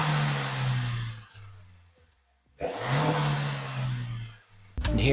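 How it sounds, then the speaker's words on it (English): A stock Honda Civic Si engine revving in two bursts, each rising then falling back, with a quieter gap between them and an abrupt cutoff near the end; close and fairly loud, no talking. "This is a stock Honda Si."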